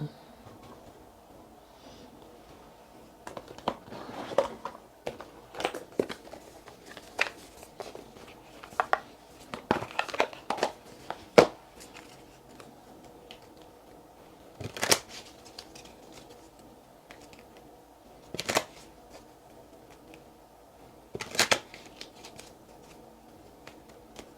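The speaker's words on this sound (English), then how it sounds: "I'm going to get the Kipper cards out." Kipper cards being handled and shuffled close by, with scattered soft riffles and sharp flicks separated by quiet pauses.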